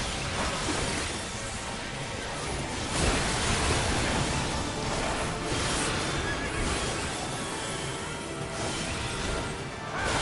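Kelpie, a horse-like boss in the Final Fantasy XIV video game, whinnies amid a loud, dense wash of crashing surf and battle effects that fills the whole stretch without pause.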